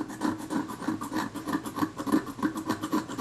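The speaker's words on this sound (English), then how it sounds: "If I can scrape it off like this" Small tool scraping old flexible adhesive off a Kodak Retinette IIB camera, quick rhythmic scratchy strokes repeating close up for a few seconds with no talk.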